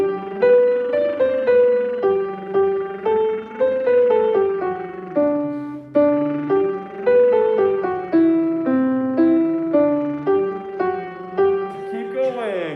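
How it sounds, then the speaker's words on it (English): Lips buzzing the hymn Sent Forth by God's Blessing during a Sunday music class, a steady brassy tone stepping through the melody in clear phrases, heard alone without talk. "Now we're going to try to do this with lip buzzing"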